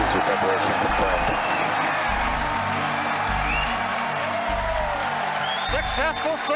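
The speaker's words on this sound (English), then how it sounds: "if you can hear me over the cheering." A crowd cheers and applauds during a SpaceX Falcon Heavy launch at side booster separation, a loud continuous roar of cheering and clapping, with speech and pulsing low tones underneath.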